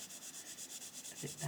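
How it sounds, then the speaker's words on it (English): A pencil colours in blue on paper in an adult colouring book, making rapid, rhythmic back-and-forth scratching strokes, faint and close, with a slightly louder stroke near the end. "I'm going to colour in all this blue"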